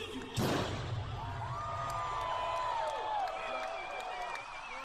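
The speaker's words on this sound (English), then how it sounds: "You heard a lot of people cheering" A large outdoor festival crowd at an Eminem set at the 2018 Governors Ball in New York roars and cheers in a steady wash of noise, with a sharp thump near the start and high shrill whoops rising above the din.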